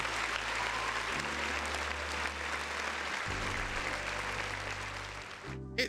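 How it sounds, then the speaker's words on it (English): Applause sound effect dropped into a live-streamed gaming and news talk show: a dense, steady wash of crowd clapping holds at even loudness for about six seconds, then cuts off abruptly at the end. "Another round of applause for the folks in the chat"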